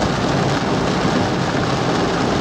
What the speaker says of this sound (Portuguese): Essa chuva vem em um bom momento.